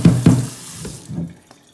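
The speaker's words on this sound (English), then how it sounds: "now I'm going to take my board and rinse it off" A cutting board gets rinsed under a running kitchen tap, with water splashing in short bursts and a few drips as the flow tapers off, close and alone.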